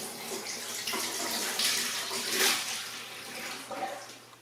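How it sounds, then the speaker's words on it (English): Liquid from canned jalapenos pours and splashes steadily into a colander, a continuous watery rush that runs the whole time. "The first thing I'm going to do is drain all of the liquid off of it."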